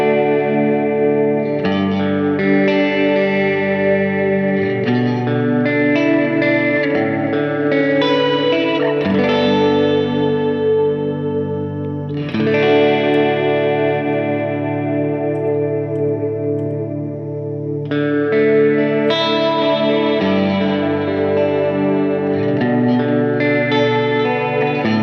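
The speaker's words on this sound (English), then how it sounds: "I'll jump over to this patch, and it's kind of a modulated, more depth reverb." An electric guitar runs through a modulated, deep reverb patch, with loud chords and picked notes that swell and linger in a lush, wavering tail over about twenty-five seconds, played alone.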